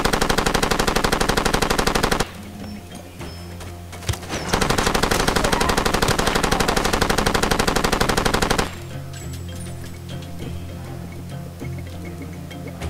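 Automatic gunfire in the video game Far Cry 2: loud sustained machine-gun bursts for about two seconds, a brief pause with scattered shots, then a long rapid volley before fading to distant single shots.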